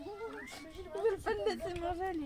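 A hungry stray cat meows repeatedly at close range, its rising and falling cries running under and between a person speaking French.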